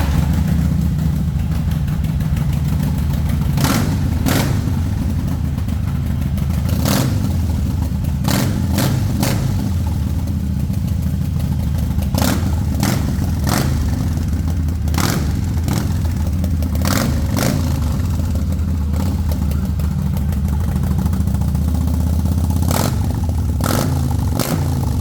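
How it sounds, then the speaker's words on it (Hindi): A Harley-Davidson 883 motorcycle with an aftermarket exhaust idles with a continuous rumble, punctuated by repeated sharp throttle blips and revs throughout. "अब साउंड टेस्ट करवाते हैं व्यूअर्स"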